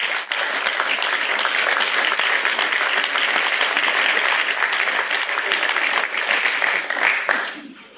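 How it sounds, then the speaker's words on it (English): Sustained audience applause fills a graduation ceremony hall, steady dense clapping from many people throughout before fading at the end. "we should give them a round of applause in anticipation for the wonderful things that we are going to hear"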